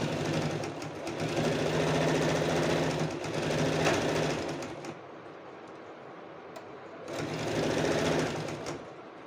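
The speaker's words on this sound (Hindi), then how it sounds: "यहाँ पर हमें टॉप स्टिच लगानी होगी, नेट के ऊपर से लगाएंगे इस तरह से" Sewing machine top-stitching over net fabric on a blouse, running in two loud close bursts of fast mechanical whirring with a quieter gap in between.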